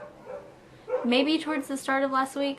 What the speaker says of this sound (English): I'm sorry if you hear the barking.